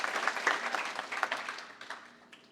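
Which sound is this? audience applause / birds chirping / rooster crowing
audience applause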